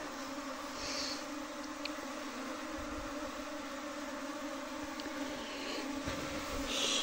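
Honey bees being moved from a log hive into a modern hive make a steady, dense buzzing drone that stays fairly even throughout, with occasional louder passes close by.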